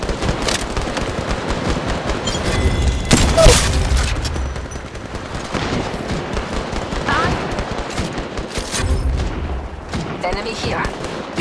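Rapid automatic gunfire in the mobile battle royale game Apex Legends Mobile, bursts of shots and booms cutting in repeatedly over a dense, noisy firefight, with a voice talking now and then.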